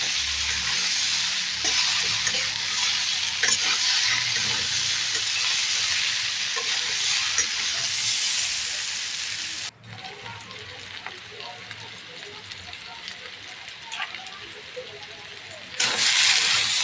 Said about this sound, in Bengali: এবার আমি যে সোয়াবিনটা ভেজে রেখেছিলাম এটাও দিয়ে দিব, দিয়ে একবারে সুন্দর করে ভেজে নেব এটাকে একটু আমি।